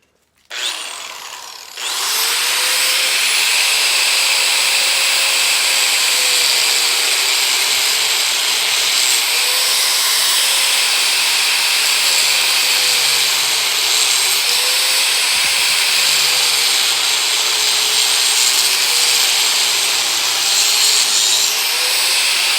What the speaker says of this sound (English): we're gonna cut a channel in it first on this end. And we'll do that with an angle grinder.